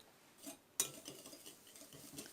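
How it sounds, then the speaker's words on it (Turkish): Eggs, sugar and turmeric stirred in a bowl, a utensil scraping and clinking against the sides in quiet, uneven strokes, with one sharper knock near the start and no talking. "Şöyle güzelce bir karıştıracağım ki şeker de hafiften bir erisin."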